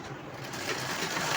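A sewing machine top-stitching a folded blouse lining on the wrong side, running as a steady, faint mechanical whir.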